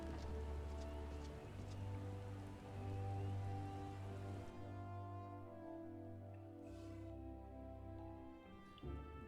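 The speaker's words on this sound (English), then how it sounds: "It's all dark and rainy and pretty much perfect for a creepy forest." Rain falling in the dark Gridania forest of the video game Final Fantasy XIV, a steady soft patter with a low rumbling bed beneath it, continuous and moderately faint.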